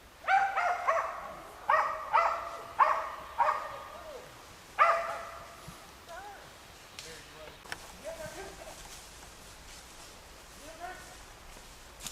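A hunting dog in Union Parish barks at treed game: a string of about six loud, sharp barks spaced evenly over the first few seconds, then fading to fainter, scattered yips and outdoor rustling.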